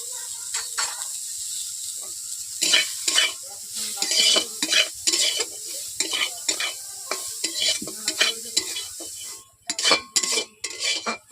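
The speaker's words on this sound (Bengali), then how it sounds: "গাজরগুলোকে হালকা করে নেড়ে নিচ্ছি।" Carrots stir-fried in a pan for vegetable pulao, a soft steady sizzle broken by repeated scraping and clinking strokes of a spatula against the pan, close by with no talking.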